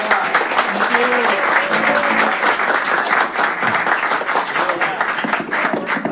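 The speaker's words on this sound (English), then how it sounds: "I want y'all to give a round of applause," An audience at a house concert gives steady, warm applause that holds for several seconds, with a few voices faintly audible underneath.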